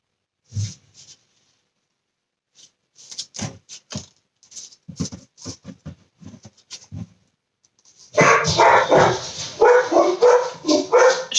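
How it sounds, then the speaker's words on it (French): Several dogs bark indoors at a home as a postal carrier arrives, opening with scattered sharp barks and yips, then breaking into a loud, sustained burst of continuous barking that fills the closing seconds. "J'ai mes chiens qui aboient."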